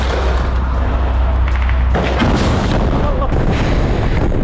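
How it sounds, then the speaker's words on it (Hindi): Rocket launcher fire during an attack on IDF troops in Beit Hanoun, Gaza: a steady loud rumble with a sharp booming burst near the middle and crackling blasts after, under faint background voices. "रॉकेट लॉन्चर से इस हमले को अंजाम दिया गया है।"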